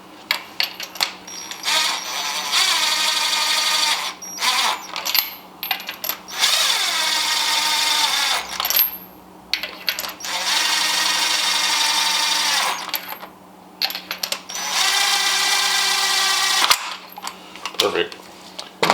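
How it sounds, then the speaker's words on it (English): A cordless power drill drives spark plugs into an Acura ILX engine in several whirring bursts of a few seconds each, separated by brief pauses and metallic clicks. "Now I'm going to use my drill to slowly get them down all the way"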